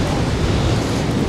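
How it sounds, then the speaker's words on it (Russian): Strong gusting wind buffets a microphone beside a tall building during a bicycle ride, a dense steady roar and rumble that runs loud for the whole stretch with no talking. "Очень сильный ветер."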